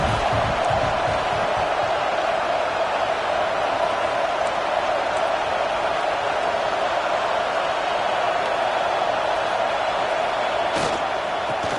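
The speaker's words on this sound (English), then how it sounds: "This crowd trying to make life miserable for this offense." A stadium crowd in a Madden football game on PS5 keeps up a loud, steady roar for the whole stretch, with no let-up or break.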